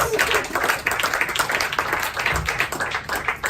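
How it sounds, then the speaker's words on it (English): Audience clapping at a live concert in the Tunnel club in Vienna, a brisk, fairly close burst of hand claps and some whoops that holds steady for a few seconds. "can we give a round of applause for Sam?"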